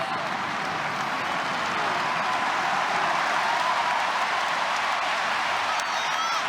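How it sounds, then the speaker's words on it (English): A stadium crowd of Arsenal fans applauds substituted players during a friendly against Monaco, a sustained dense wash of clapping with a faint commentator voice underneath. "as the Arsenal faithful stand to applaud those that have performed their duty"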